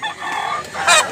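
Roosters at a chicken market in Mantalungon, Barili give close, loud clucks and a short crowing burst in quick succession.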